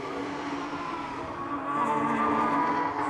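Renault Mégane Trophy race cars from the 2007 Eurocup battle down a straight, one slipstreaming past another: a continuous, fairly loud engine drone that swells and grows stronger in the second half.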